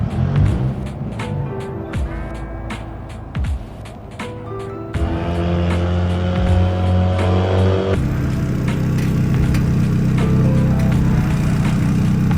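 A Nissan 180SX bump-started after a push, first rolling with faint clicks, then the engine catching and droning louder and steadier, ending in a strong sustained run, close by.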